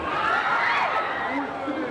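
A dense crowd at a Corpus Christi procession in the Inca highlands roars in a sustained, loud mass of voices close to panic, with no single voice standing out.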